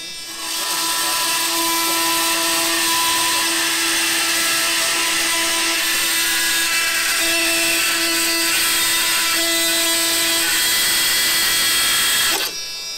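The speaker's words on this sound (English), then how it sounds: "you watched the Diablo carbide general purpose blade cleanly and easily cut through this 5/16 stainless steel bolt that's embedded in this 2x6 piece of wood" A Diablo carbide general purpose saw blade cuts through a 5/16 stainless steel bolt embedded in a 2x6 piece of wood at a trade show booth, with a loud, continuous high-pitched whine that holds for about twelve seconds before stopping.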